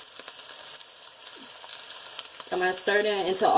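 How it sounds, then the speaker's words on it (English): A spoon stirs flour and water into a pan of ground beef and potatoes, quiet sizzling at first, then louder scraping and bubbling toward the end, close by. "I'm going to take a spoon and I'm going to stir it in until all"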